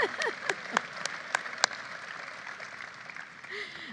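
An audience at a bill-passage celebration gives a light, scattered applause, with several sharp distinct claps standing out over a thin background of clapping.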